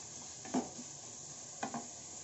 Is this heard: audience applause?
no